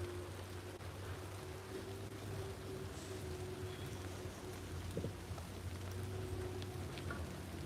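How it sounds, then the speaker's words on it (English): Rain falling outdoors during athletic sprint training, a steady even hiss of drops with a low background hum, no voices. "As you can see, it's raining."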